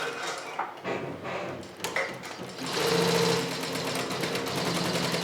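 A low-cost arm-model embroidery machine stepping up to 1200 speed: irregular mechanical knocks give way to a louder, dense, fast rattling whir that holds steady, close by.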